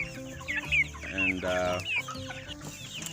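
Young layer chickens cluck and chatter close by in short, overlapping calls with a few higher squawks, while a person speaks briefly beneath them.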